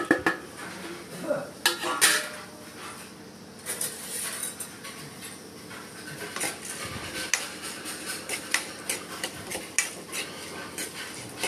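Pepper, coriander seeds, dried chillies, fennel and cumin are roasted in oil in a kadai for a village-style curry. A metal spatula scrapes and clinks in a busy, irregular rhythm over a faint sizzle.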